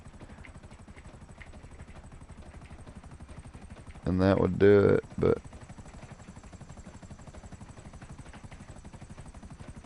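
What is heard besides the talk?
helicopter flying in video game GTA Online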